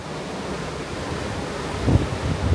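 Steady wind roaring over open water from a cruise ship on a cold, rainy day, with waves surging underneath and a low gust swelling near the end. There are no voices.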